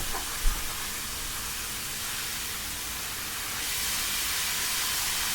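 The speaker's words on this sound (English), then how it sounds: "Y'all hear this fish back here frying?" Fish frying in a pan alongside a hamburger cooking with seasonings and vegetables, heard as a steady broadband sizzle and hiss that holds for the whole stretch with one brief knock near the start.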